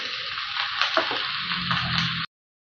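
Pork for menudo browning in hot oil, a steady close sizzle with faint stirring scrapes and ticks for about two seconds before cutting off abruptly, no voices.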